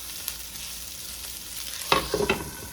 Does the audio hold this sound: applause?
no